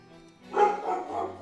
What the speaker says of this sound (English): there goes my dog again. There's something outside. She's barking her face off.